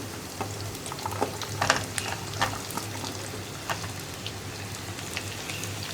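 Sliced onions and green chillies dropped into a hot pan with ginger and garlic, a soft steady sizzle with scattered crackles and a few stirring scrapes, moderately quiet and close.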